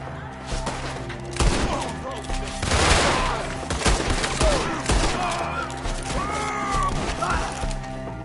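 Scattered rifle and pistol shots crack amid a chaotic Red Dead Redemption 2 firefight, with irregular bursts, whooshes and shouted voices overlapping throughout.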